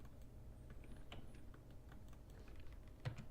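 Typing on a computer keyboard in AutoCAD, with a spacebar press to finish a command: quiet, scattered key clicks with no steady rhythm over a low steady hum, ending in a firmer tap.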